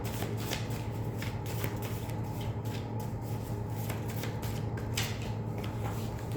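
A deck of oracle cards is shuffled by hand in a steady, continuous riffle of papery flicks and slaps, close and fairly quiet, with no talking.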